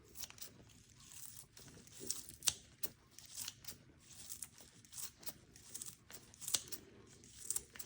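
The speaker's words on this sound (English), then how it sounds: "So I am going to try my trusty herb snipper scissors and see what happens." Repeated sharp snips and crisp crunchy cuts, irregular and close, as scissors chop through fresh leafy herbs with light rustling in between.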